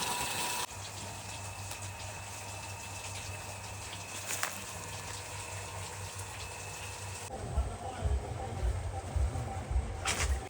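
A motor pump drains water from an old field pond, a steady droning hum under rushing, gushing water that grows louder and more turbulent toward the end.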